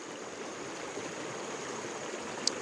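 A long river runs downhill at a clear-water village fishing spot, flowing in a steady, close rush of water with no pauses and no voices.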